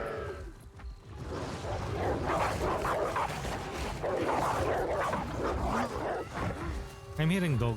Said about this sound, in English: I'm hearing dogs though.